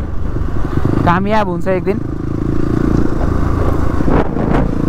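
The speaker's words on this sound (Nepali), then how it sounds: "अहिले हामी 4वटा बाइक अघिको जस्तै सरर जङ्गलबाट निस्किसकेको छौँ बाहिर" Four motorbikes ride off-road out of jungle terrain onto a road, giving a continuous close engine drone with rattling and scraping. A person speaks briefly over the engines partway through.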